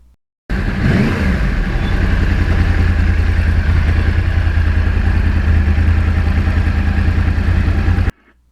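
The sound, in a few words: Yamaha R1 crossplane motorcycle riding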